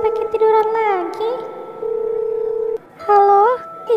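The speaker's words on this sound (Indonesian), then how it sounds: "Mending gue telepon dia aja deh." A phone in the Sakura School Simulator game dials with short tones, then rings with a loud, sustained, warbling electronic ringback, alone and close, pausing briefly before another ring.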